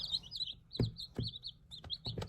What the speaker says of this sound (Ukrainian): Це курчатка маранів.